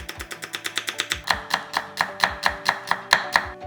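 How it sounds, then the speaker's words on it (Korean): A knife thinly slicing garlic cloves and onion on a cutting board, a quick run of sharp, evenly spaced chops that slows slightly and grows louder partway through, close and alone. "마늘 4개는 얇게 편 썰어 담고 양파 약간도 얇게 채 썰어"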